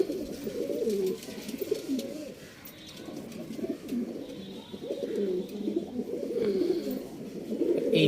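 Adult pigeons in a breeding pair coo steadily at close range, their low rolling calls overlapping almost without pause and swelling and fading in waves.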